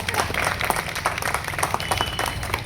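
An audience claps for participants of a rangoli (muggulu) drawing contest at an outdoor event in Hyderabad. The applause is steady and mid-distance, a dense patter of many hands that holds throughout without speech.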